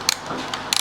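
A ratchet tightens the bar end on a Royal Enfield Shotgun 650 handlebar, giving short bursts of quick metallic clicks. The clicks come in a few close, crisp runs with brief pauses between them.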